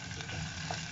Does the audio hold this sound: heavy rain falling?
no